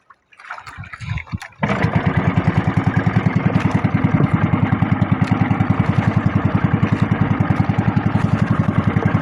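A small fishing boat's engine sputters a few times, catches and settles into a loud, steady rhythmic chugging idle close by.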